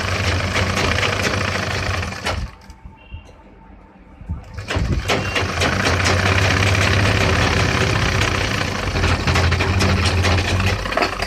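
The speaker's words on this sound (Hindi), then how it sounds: "तो देखिएगा हम निशान पे सिलाई लगा रहे हैं।" Sewing machine running continuously along a pant seam, a steady motor whir with a brief pause midway before stitching resumes at full volume.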